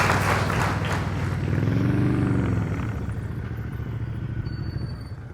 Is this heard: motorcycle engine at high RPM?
yes